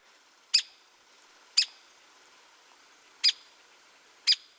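Downy and hairy woodpecker calls in a northern forest, four short sharp high-pitched notes spaced about a second apart, clear against a quiet background.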